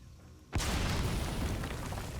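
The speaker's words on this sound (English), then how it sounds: "That is a grenade." A grenade goes off in Metal Gear Solid V: a sudden loud blast after a quiet moment, then a dense roaring rumble of debris that holds steady to the end.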